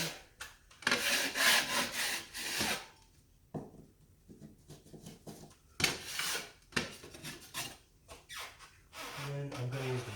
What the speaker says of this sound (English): once that is all dry, give it a scrape back